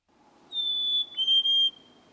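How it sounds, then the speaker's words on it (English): Black-capped chickadee whistled song, a clear pure two-part whistle, the second note slightly lower, heard alone against near silence and fairly close. "There are whistles, like the black-capped chickadee."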